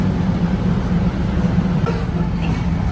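Steady low rumble of a moving Thai express train heading to Bangkok, with continuous rolling noise, close and loud, no talking.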